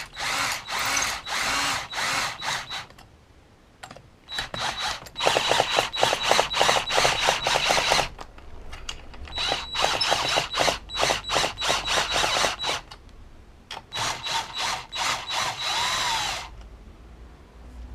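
A power drill drives a screw while a scooter twin-cylinder is being built, in several whirring bursts of a few seconds each separated by short pauses, loud and close.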